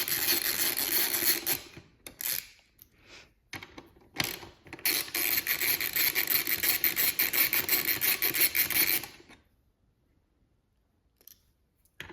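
Close metallic ratcheting and grinding as tail light bolts on an Aprilia RS 660 motorcycle are turned out with an Allen key, in long bursts with short pauses, then near silence at the end.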